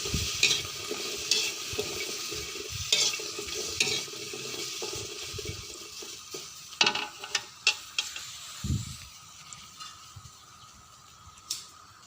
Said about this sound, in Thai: ขัวพริกหอมกระเทียม